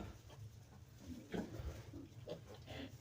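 Soft, low grunts from a sow giving birth to piglets repeat irregularly, quiet and close, with faint shuffling and background noise.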